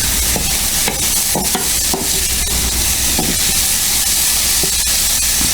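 Garlic and onions cook in a pan with a loud, close, continuous sizzle and hiss, broken by repeated clacking scrapes of a utensil stirring them.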